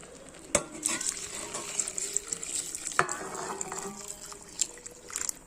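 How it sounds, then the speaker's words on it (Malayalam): Boiled salted water pours and splashes into a pressure cooker of chicken biryani, with a few sharp clinks of utensils and a soft bubbling hiss. "ഉപ്പിട്ട് തിളപ്പിച്ച വെള്ളം."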